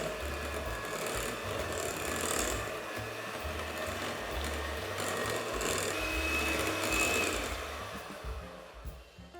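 An electric hand mixer whirs through sultana loaf cake batter with egg being added, a steady motor drone with slight pitch shifts running close and continuous throughout.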